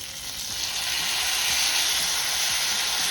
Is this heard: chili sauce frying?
yes